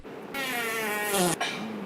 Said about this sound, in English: You like my fart?